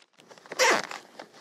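A single quick zip of a zipper, close and crisp, one bright rasping pull lasting a fraction of a second with soft handling noises around it.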